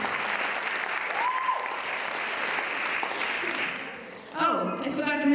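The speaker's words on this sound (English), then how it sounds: "Give him a big round of applause" Warm, continuous applause from the audience at a Bharatanatyam Rangapravesam dance debut, steady and full for several seconds before dying away as a voice starts speaking over the last clapping.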